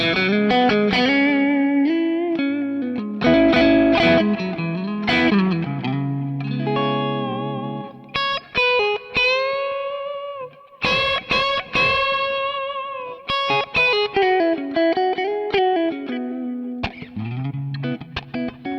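An electric guitar plays melodic phrases and chords through a free clean amp simulator plugin, with chorus, echo and reverb coloring the tone; the notes ring out alone and close, with no talking.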